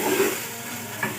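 Chicken cooking in a pot for yakhni pulao gives a steady, close sizzle with a brief stirring scrape.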